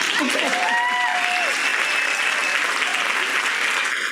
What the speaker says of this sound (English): Applause for Eric, come on.